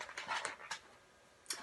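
A dog pants in quick, breathy huffs, faint and close, with short bursts separated by brief pauses.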